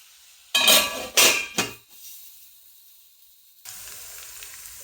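Green chilies and onions for chicken curry hiss and sizzle in a hot pan, with three loud bursts of frying and metallic stirring early on, then a quieter steady sizzle, no voices.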